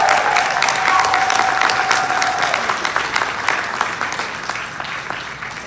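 Sustained applause from a large audience at the BlerdCon 2019 convention closing ceremony, dense and steady for several seconds before gradually thinning, with a brief tonal ring early on.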